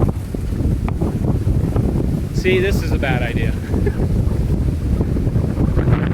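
Strong wind roars steadily across the microphone in heavy gusts, with a brief spoken remark partly buried under the rumble.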